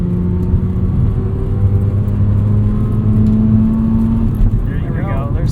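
Engine of a 1990 FC Mazda RX-7 revving toward 7,000 RPM while driven, a loud steady rising whir with strong tonal harmonics heard from the cabin, with a voice speaking over it.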